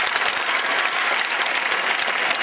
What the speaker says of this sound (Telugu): Claps please.